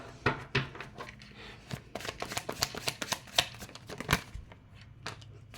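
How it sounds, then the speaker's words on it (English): Tarot cards being shuffled by hand in quick riffling bursts with sharp snaps and pauses between, close and fairly quiet, no talking. "I know you see me shuffling these damn cards."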